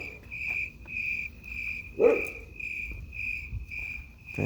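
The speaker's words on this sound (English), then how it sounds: "Crickets!" Steady, evenly pulsed cricket chirps repeat close by, with a brief dull thump and faint low background noise in between.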